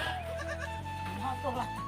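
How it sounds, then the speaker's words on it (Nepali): Goats on a rural farm bleat repeatedly and close by, with wavering, overlapping calls throughout. "यो बाख्राहरू चाहिँ कराकरै"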